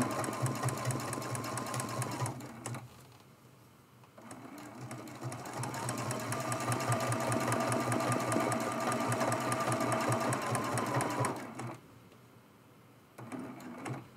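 A sewing machine stitching a turkey-themed mug rug runs in a rapid, steady mechanical chatter, loud and close, pausing briefly twice before starting again.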